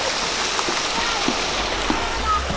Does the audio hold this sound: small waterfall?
yes